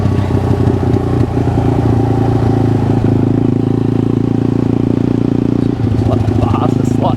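CF140 pit bike with a Lifan 140cc engine swap being ridden: a loud, steady single-cylinder drone held close throughout, with rattling and clatter over it and a brief dip near the end.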